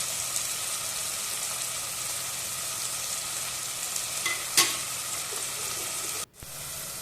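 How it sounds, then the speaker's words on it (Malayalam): Bitter gourd frying in a pan for pickle: a steady, dense sizzle of oil runs throughout, close and even, with a brief stir or clink near the end before a sudden drop. "മിക്സ് ചെയ്ത് പാവക്ക ഫ്രൈ ആയി വരുന്നത് വരെ ഒന്ന് വെയിറ്റ് ചെയ്യാം"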